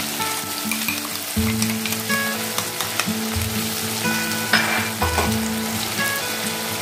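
Spice paste frying in a pan for a Bengali fish curry, a close continuous sizzle broken by stirring scrapes and a few louder spatters, with no voices.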